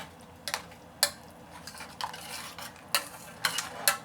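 A spoon stirs doenjang paste into soup in a pot, pressing it against the pot's side to dissolve it, with light, irregular clinks and scrapes about every half second over a soft simmering background.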